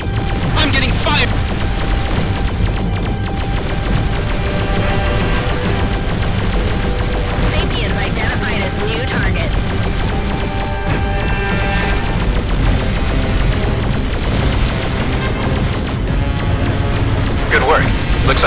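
Turrets in the space combat game Black Prophecy fire at a battleship's weak points, producing loud, continuous rattling gunfire mixed with battle noise, with talk over it throughout.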